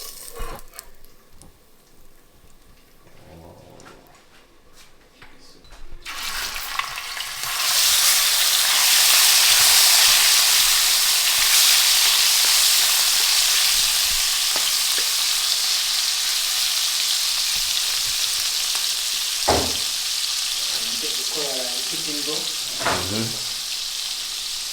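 Garlic frying in a pan of oil in a Jamaican rasta pasta kitchen, a loud, close, continuous sizzle that bursts in after a quieter start, with occasional stirring clatter and brief voices.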